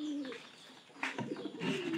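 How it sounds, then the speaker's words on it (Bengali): A pair of pigeons coos softly at their loft, low throaty coos at the start and end of a brief, quiet moment with a little rustling between. "এই যে কবুতর জোড়া"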